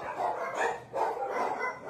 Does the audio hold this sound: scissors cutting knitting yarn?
no